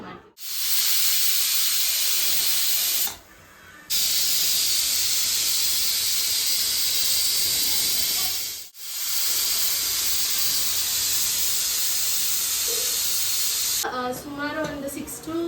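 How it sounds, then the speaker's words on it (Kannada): A pressure cooker on a kitchen stove releasing steam, heard as a loud, continuous hissing rush with two brief dips, and a faint voice near the end. "ಸುಮಾರು ಒಂದು 6 to 8 ವಿಷಲ್ಸ್ಗೆ ಕೂಗಿಸಿದೀವಿ"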